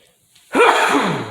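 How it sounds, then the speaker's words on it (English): A single loud, close sneeze erupts after a brief quiet intake of breath, then trails off in a breathy fade. "Had to sneeze there."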